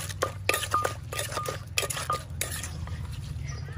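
Fresh shrimp som tam being mixed in a mortar, with quick clinking and scraping strokes against the bowl over a steady low hum, close and moderately loud with no talk.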